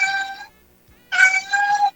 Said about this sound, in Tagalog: Pasensya ka na lang sa pusa ko, maingay.